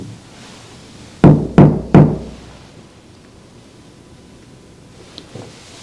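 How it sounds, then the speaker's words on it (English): Three firm knocks rap on a door in an old hotel, evenly spaced and close, followed by near silence with a couple of faint distant taps. "Yes, the knocking on the door."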